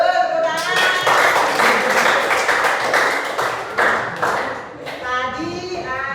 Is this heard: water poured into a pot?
no